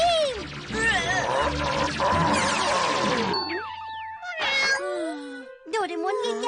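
A cartoon cat in a Doraemon episode dubbed in Hindi lets out several bending, exaggerated meows and wails, close and loud, mixed with bouncy cartoon effects and brief voices.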